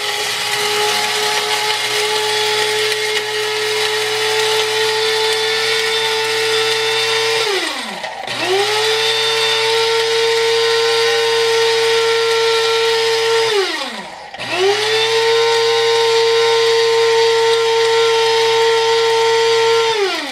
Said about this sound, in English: I just grind till I don't hear any pieces in there rattling around